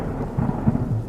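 Low, continuous rumbling of thunder with a wash of rain beneath it on a dark stormy night, swelling in a few soft peaks over a brief stretch with no voices.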